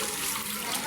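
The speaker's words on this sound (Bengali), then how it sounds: "পানি তো খুব জোরে গেছে" Strong water gushing steadily, like a fast-flowing stream or outlet, a continuous loud rush for under a second with no voice over it.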